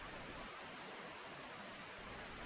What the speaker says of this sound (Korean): 시원한 물소리가 들리는 걸 보니 해탈교에 벌써 도착한 것 같은데요